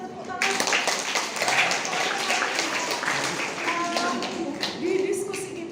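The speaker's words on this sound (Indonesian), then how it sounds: "Oke, beri kita tepuk tangan." Applause from a group at an Indonesian teachers' discussion session, a dense, steady patter of clapping sustained for several seconds, with voices talking through it.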